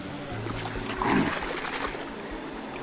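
Free water poured out for washing hands at an outdoor picnic near the India–Myanmar border in Nagaland, a short splashing trickle swelling briefly in the middle over steady background murmur.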